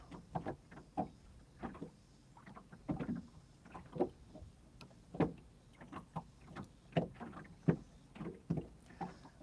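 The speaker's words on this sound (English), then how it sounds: "Do you guys hear the boat slap?" Water slaps against the hull of a fishing boat in irregular, hollow knocks every second or so, close and fairly quiet, with no voices.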